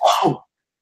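A single short, explosive human sneeze, loud and close, cut off abruptly and followed by silence.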